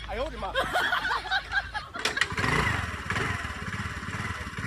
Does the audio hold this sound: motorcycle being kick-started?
yes